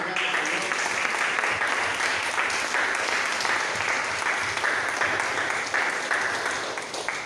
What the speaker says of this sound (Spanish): vamos a dar un fuerte aplauso esta mañana, Señor